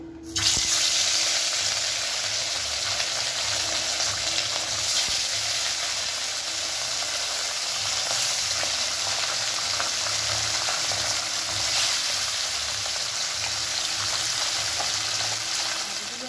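Fish pieces fry in hot oil in a pan, giving a loud, steady sizzle that continues unbroken, with faint stirring and no voices.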